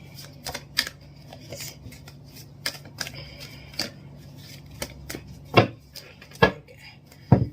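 Crisp riffling and snapping of a tarot card deck being shuffled, a scatter of soft taps followed by a few sharper, louder bursts near the end.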